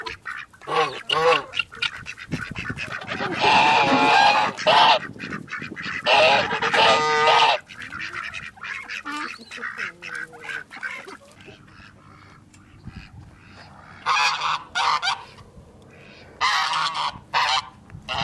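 Geese on a lake honk loudly in a dense, overlapping chorus, bursts of harsh calls that fade to scattered honks and return in short flurries.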